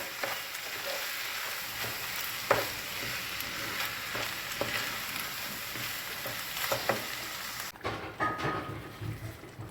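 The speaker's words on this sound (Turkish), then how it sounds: "Böyle iç malzememizle bir 10 dakika kadar e, pirincimizi kavuralım." Rice and filling for Black Sea collard-green rolls roasting in a pan, a steady crackling sizzle with scattered scraping stir knocks, the hiss thinning and shifting near the end.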